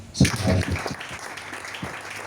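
A church congregation breaks into a short burst of clapping that peaks early and then thins into scattered claps, with a voice briefly heard over it.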